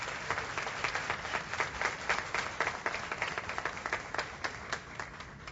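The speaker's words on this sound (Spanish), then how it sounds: "El aplauso es para Dios, iglesia." A church congregation claps together, a steady run of fairly even hand claps blending into moderate applause that continues throughout.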